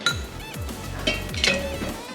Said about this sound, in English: Okay, then I need to put some ice in it